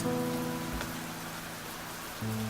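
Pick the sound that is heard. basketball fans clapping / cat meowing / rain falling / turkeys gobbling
rain falling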